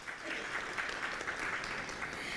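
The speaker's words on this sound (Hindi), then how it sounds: "जोरदार तालियों के साथ स्वागत किया जाए इनका" An audience at a televised quiz competition applauds to welcome a team, a steady, even roar of many hands clapping throughout, with no voices on top.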